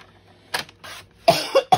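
A person with bronchitis gives a few short, harsh coughs in close succession, close and loud in a quiet room, with no talking.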